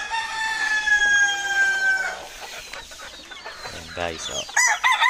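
A rooster, a gifted bird kept tied up at a backyard coop, gives one long crow close by, followed by a few clucks, with someone speaking briefly over it.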